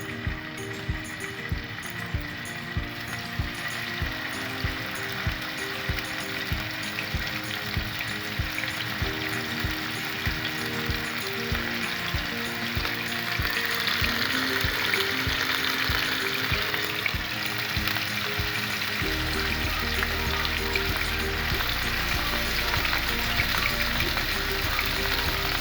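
Chicken strips fry in oil in a pan with a steady, close sizzle and crackle, joined by the rhythmic scrape of a utensil over the first part before the frying settles into a continuous hiss.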